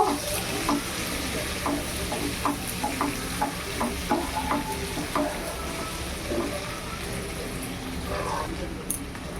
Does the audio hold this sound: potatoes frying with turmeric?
yes